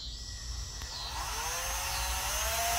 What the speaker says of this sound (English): it keeps my drill bit from sliding around as I get started on the slick metal